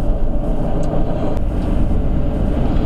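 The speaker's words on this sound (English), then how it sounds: "We're just driving along the Thames now." A car drives along the Thames in central London, its steady low road rumble and tyre noise filling the cabin continuously, with no talking.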